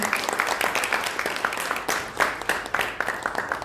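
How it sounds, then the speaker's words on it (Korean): Audience applause at a Korean journalism award ceremony as a prize is presented. Dense, steady clapping from many hands, moderately loud and continuous throughout, with no talk over it. "여러분께서는 박수로 축하해 주시면 감사하겠습니다."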